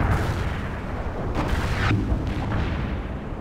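Booming artillery and gunfire rumble continuously in a World in Conflict battle, loud and dense with several sharper blasts rising over the roar.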